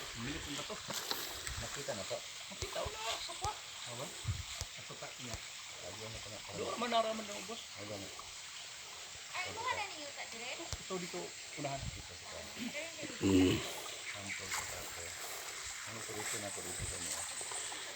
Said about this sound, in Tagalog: Nindot kayo sapa gamay.